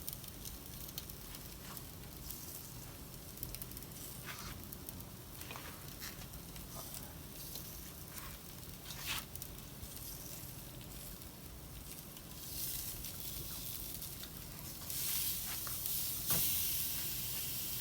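A T-bone steak sizzles in a pan with a constant soft hiss and scattered pops and crackles, growing slightly louder toward the end.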